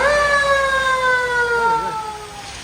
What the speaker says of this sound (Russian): И вот первая пожарная уже едет на помощь.